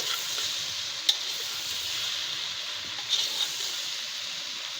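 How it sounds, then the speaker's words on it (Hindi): Okra masala stirred in a pan, a soft continuous sizzle with a couple of brief clicks from the spoon, fairly quiet and steady throughout. "और अच्छी तरह से इसको हम मिक्स कर लेंगे।"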